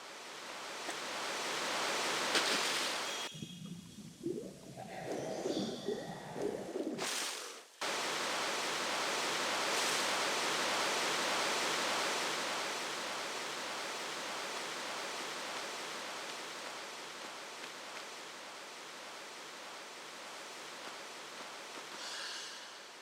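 A steady rushing waterfall in the video game Tomb Raider, in Natla's Mines, roars throughout as broad hissing noise, briefly broken by a muffled interlude with scraping and rustling before the full rush returns.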